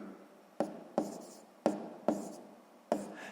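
Someone writes out a math solution for a sixth-grade exercise: five crisp, separate strokes on a quiet background, each with a sharp start and a quick fade, spaced about half a second apart.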